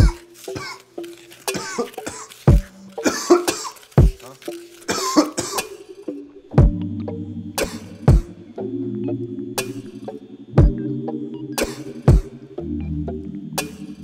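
Repeated coughing mixed with sharp clicks and knocks over a low droning backing, bursts recurring every second or two, close and fairly loud.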